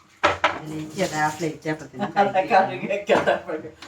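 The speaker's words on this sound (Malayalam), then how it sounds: "ഇത് കുക്കർ ഗ്യാസിന് വെച്ച് ഇത് വേവിക്കാൻ പോകുന്നു" A pressure cooker holding taro and tapioca curry is set onto a gas stove with clanking metal knocks, partly buried under someone talking steadily throughout.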